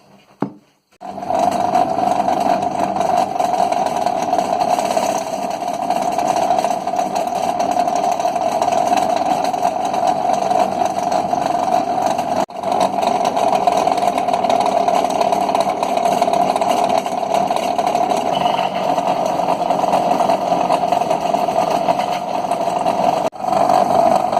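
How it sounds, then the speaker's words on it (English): A piece of silver steel is machined into a thicker wearing ring for BMW motorcycle tapered roller wheel bearings, producing a constant close mechanical whir with a steady mid-pitched tone that holds for the whole stretch, with no talking. "Rather than buying them, I'm going to machine them up with a piece of silver steel."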